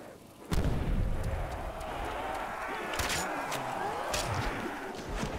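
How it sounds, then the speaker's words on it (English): A heavy grenade blast in a custom zombies map called Cryogenic, a sudden deep boom that then settles into a dense, rumbling wash of game noise, with excited voices around it. "Grenade."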